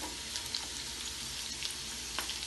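Green chili and red chilies sizzling in hot oil alongside garlic, a close, steady frying crackle with small pops scattered through it.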